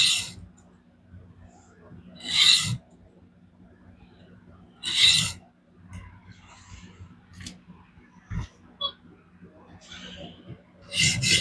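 Rhythmic rasping strokes of DC53 steel knife drawn across a Xarilk Gen 2 sharpening stone, several bursts separated by quieter gaps, close and fairly faint with low background hum.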